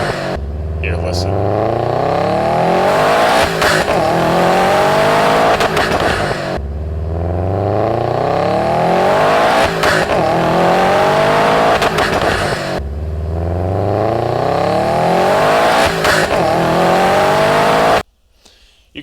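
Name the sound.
turbocharged car engine, turbo spool and induction noise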